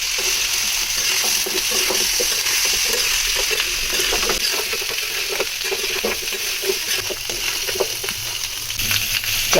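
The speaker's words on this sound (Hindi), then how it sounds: "चाप की थोड़ी सी भुनाई कर लेंगे इस तरीके से" Pre-tenderised beef chaap roasting on a hot tawa gives a steady, close, loud sizzle with frequent scraping and stirring clicks throughout, and no voices.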